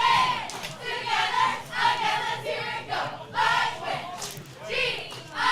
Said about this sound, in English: That is the cheer squad for Olympian, if you can hear that beneath us.